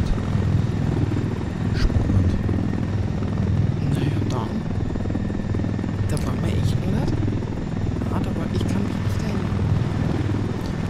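Helicopter flying in the video game Ghost Recon Wildlands, a steady low rotor drone and engine hum sustained throughout, with a voice talking over it.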